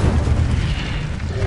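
A fire spell cast in Hogwarts Legacy gives a steady, loud roaring whoosh of flame that holds full and dense for the whole moment, with no voices over it.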